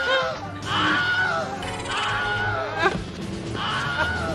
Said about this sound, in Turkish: artık yönetmen ve kurgucuların aralarında şakalaşmak için kullandığı Wilhelm çığlığı